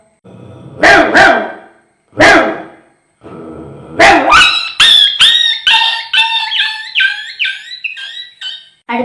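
A dog gives a few sharp, loud barks, then breaks into a rapid string of high-pitched yelps and whines, close by.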